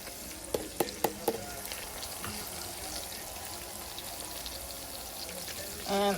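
Onions and celery sizzle quietly in melted butter in a pan, a soft, steady crackle with a few sharp clinks of a utensil early on and a brief louder clatter at the end.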